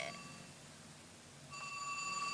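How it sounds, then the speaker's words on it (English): A mobile phone rings with electronic tones that fade and then return more strongly partway through, faint and alone against a quiet background. "Sorry, that's my phone."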